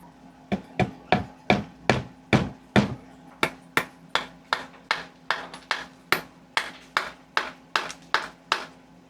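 A wooden dowel pin is hammered into driftwood for a 125-gallon aquarium decor piece, about twenty sharp, close strikes in a steady rhythm, slightly uneven in loudness, with no talk.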